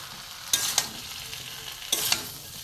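Green jackfruit and boiled potato fry in a hot pan, a steady low sizzle punctuated by two pairs of sharp scraping stirs from a spatula, close and with no voices.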